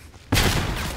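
A grenade explodes in the Stalker GAMMA game, one sudden loud boom after a quiet moment, followed by a rumbling, booming tail.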